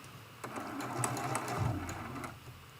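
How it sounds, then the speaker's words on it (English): A sewing machine stitches a quarter-inch seam on a quilt block for a Churn Dash Christmas ornament, giving a short, close burst of rapid mechanical whirring. "We're going to sew this seam with a 1/4 inch seam allowance."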